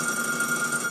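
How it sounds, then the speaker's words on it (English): A phone rings during an ARRMA Limitless RC car build, a steady electronic tone held continuously through the moment at moderate, fairly close volume, with no talk over it. "my phone rang"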